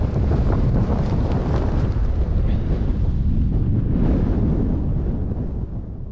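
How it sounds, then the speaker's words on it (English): Strong wind buffeting a microphone on an exposed mountain ridge in the Scottish Highlands near Glenfinnan, a loud, continuous roaring rumble that gusts and eases slightly near the end. "It's just a wee bit windy at the moment"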